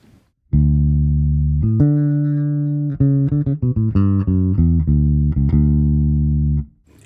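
Sustained low fingerstyle electric bass notes played one after another, a long held tone at first, then a run of shorter plucked notes, clear and up close with no talking.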